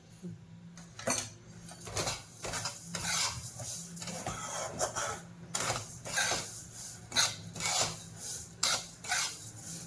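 A metal spoon scrapes and stirs masala spices roasting in a pan with a little oil, a run of irregular clinks and rasping strokes close by, with a faint sizzle underneath and no talk.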